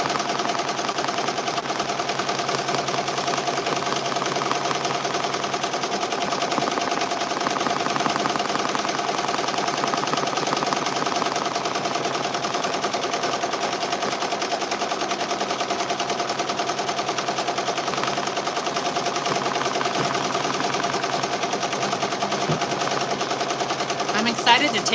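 An embroidery machine stitching a banana man design runs with a fast, steady mechanical rattle, close and continuous, with a voice talking over it now and then.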